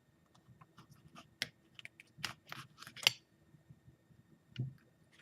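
A knife or blade slices open a Butch T Scorpion x 7 Pot chili pepper. Faint, close crisp clicks and soft cutting sounds come in scattered bursts, with no talking.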